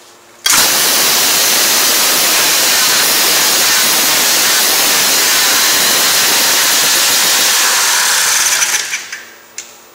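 A competition chainsaw fires up abruptly and runs at a loud, sustained high-revving whine close by for about eight seconds, then cuts off and sputters down to quiet.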